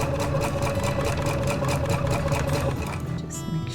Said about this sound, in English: I'm going to do that little back stitch.